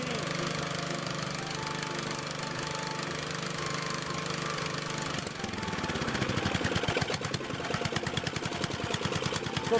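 A Lombardini engine on a walk-behind tractor runs steadily after a pull-start with the throttle opened a little, a loud continuous mechanical drone that grows rougher and more pulsing partway through, with no talk over it.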